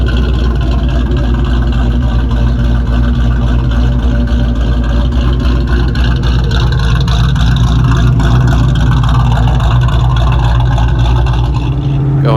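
A Ford Mustang Bullitt's V8 drones steadily and loudly from inside the car as it cruises down a highway, a continuous low rumble with road noise and no talking.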